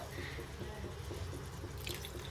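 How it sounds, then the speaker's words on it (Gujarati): Water from a glass poured into chickpea curry (chhole) in a cooking pot, a steady, fairly quiet splashing wash with no talking. "1 ગ્લાસ જેટલું પાણી મેં નાખી દીધું છે."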